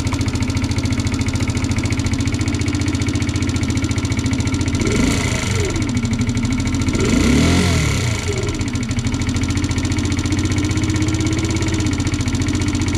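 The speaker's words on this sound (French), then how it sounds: "tu vois, on entend le régime qui augmente" Kymco Agility 50 scooter engine idling steadily up close as the idle screw is adjusted, with two brief swells around the middle where the idle speed rises before settling back to a steady putter.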